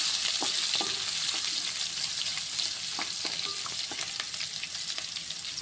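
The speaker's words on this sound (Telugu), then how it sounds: "దీని తర్వాత ఎండుమిరపకాయలు, దీని తర్వాత ఉల్లిగడ్డ వేసుకొని ఒకసారి కలుపుకోవాలి మంచిగా" Dried red chillies and onion frying in oil, a loud steady bright sizzle with scattered scraping stir strokes, close and continuous, no voices.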